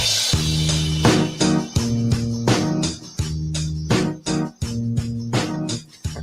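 Gorillaz's "Clint Eastwood" plays with a steady, looping bass-and-beat groove, repeating in regular bars at moderate loudness, with no talk over it.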